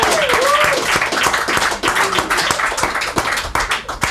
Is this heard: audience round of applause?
yes